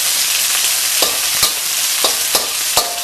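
Beef and broccoli stir-frying in a pan, a dense continuous sizzle punctuated by several sharp scrapes and stirs at irregular intervals, with no talking.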